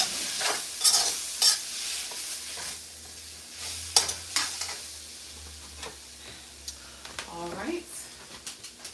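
Seasoned Idaho potatoes being stirred in a pan, repeated scraping strokes and clicks of the utensil over a soft sizzle, with brief chirp-like squeaks near the end.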